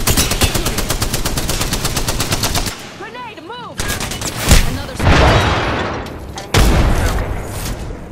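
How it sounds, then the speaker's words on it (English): Rapid automatic gunfire from enemies in the battle royale game Apex Legends, loud and sustained bursts, with a short pause filled by a tonal game sound before more heavy shots and impacts resume. "They're shooting at me."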